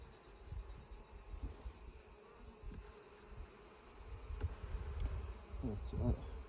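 Honeybees buzz during a beehive inspection, a low continuous drone close by with a few louder passes near the end.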